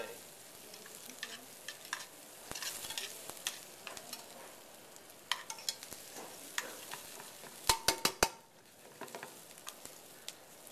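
Onions and mushrooms sauté in a pat of butter in a pan, a soft continuous sizzle broken by scattered clicks and scrapes of a utensil, with a quick cluster of sharp taps near the end.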